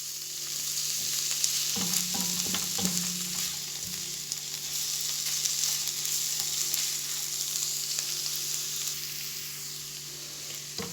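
Garlic and onion are sautéed in a pan, giving a steady close sizzle with a few soft stirring knocks early on and no talk.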